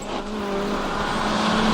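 A WRC rally car engine from the 2005 Rally Japan, in the WRC 2005 game, holds a loud, steady drone at high revs with a slight rise toward the end, heard up close with no talk.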